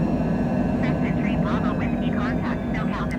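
Airplane engines roar loudly and steadily during a noise abatement takeoff from John Wayne Airport in Orange County, with people talking over the constant cabin drone.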